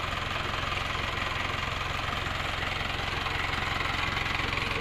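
A 4x4 off-road Wrangler engine idles steadily up close, with a constant low rumble and a fine, regular knocking pulse throughout and no talk.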